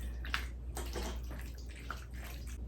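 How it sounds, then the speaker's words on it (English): Wet, sloppy squelching and bubbling of creamy Cajun pasta with shrimp being stirred in a pan, steady and close, with no talking. "You hear that sound? That's how you know that pasta is saucy."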